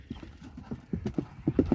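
A four-year-old horse about 1.70 m tall runs, its hooves clip-clopping in a quick, uneven rhythm that grows louder and closer toward the end.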